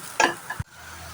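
Coconut and jaggery pitha filling is stirred in a pan, giving a brief scrape and soft sizzle, then a low knock, all close and quiet.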